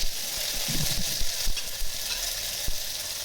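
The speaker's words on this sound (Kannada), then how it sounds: "ಈರುಳ್ಳಿ ಸ್ವಲ್ಪ ಫ್ರೈ ಆದ ನಂತರ ಅದನ್ನು ಚೆನ್ನಾಗಿ ಆ ಕಡೆ ಈ ಕಡೆ ಸ್ವಲ್ಪ ಫ್ರೈ ಮಾಡಿಬಿಟ್ಟು" Onions fry in a pan for a vegetable pulav, giving a steady broadband sizzle with a few soft clinks and scrapes from stirring, close and fairly loud, no talking.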